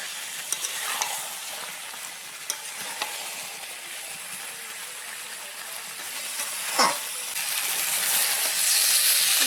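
Boiled taro and potato frying with spices in a pan, a steady broadband sizzle with occasional scraping stirs and clacks of a utensil, close and continuous, growing slightly louder toward the end.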